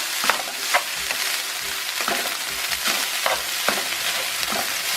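Fresh rice stir-fried and tossed in a pan for Sri Lankan Malay nasi thumis, with a steady close sizzle broken by repeated scraping stirs of the spatula in an uneven rhythm.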